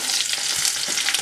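Sliced onion and capsicum hitting a hot pan, a loud, dense, close sizzle that holds steady through the short moment.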